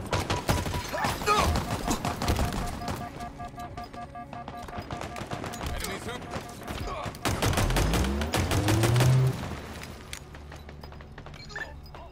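A grenade goes off in Halo Infinite multiplayer, a deep booming blast among rapid gunfire bursts and clattering shots, with a player talking over the action.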